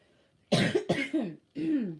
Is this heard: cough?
yes